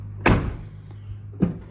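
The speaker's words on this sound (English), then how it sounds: "you guys can hear what the difference sounds like when you close the door with the new rubber" A 3rd-generation Ram pickup truck door fitted with a new rubber door seal shuts twice, giving two solid, close, muffled thuds about a second apart over a low background hum.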